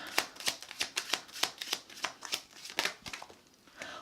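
Tarot cards are shuffled and pulled for a reading, a close, quiet series of crisp riffling snaps and slaps in an irregular rhythm.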